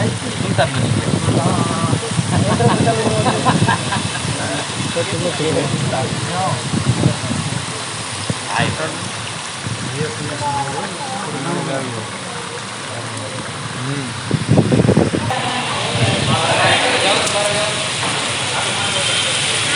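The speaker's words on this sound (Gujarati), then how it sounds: "અને બારે વરસાદ પણ ચાલુ થઈ ગયો છે." Heavy rain falling outside in Rajkot, a steady, dense hiss that runs the whole length, with a person talking over it much of the time.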